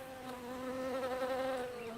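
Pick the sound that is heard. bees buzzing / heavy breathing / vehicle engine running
bees buzzing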